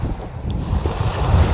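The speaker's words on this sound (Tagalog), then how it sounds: "Ang lakas ng hangin," Gusty wind blows hard over a black sand beach at Naic, Cavite, a loud rushing roar with low microphone buffeting and a faint wash of waves, building slightly toward the end and without speech.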